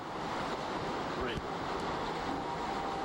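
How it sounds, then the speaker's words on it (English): Hurricane Katrina floodwater surges against a dock as waves wash in, with a constant roar of surf and gusting wind buffeting the microphone. "Water now coming up on the dock."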